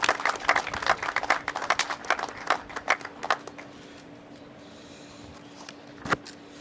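A small audience at a COVID-19 update briefing gives the mayor a round of applause: scattered, distinct claps for about three seconds that thin out and die away, followed by one late clap.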